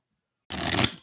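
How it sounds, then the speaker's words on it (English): A deck of cards for the Welcome To board game shuffled once, a short close riffle burst after silence. "I'm going to just shuffle the cards and get them all set up."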